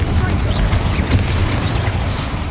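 A Confringo spell explosion from the Hogwarts Legacy video game: a loud booming, rumbling blast with crackling debris, dense and sustained, under game noise.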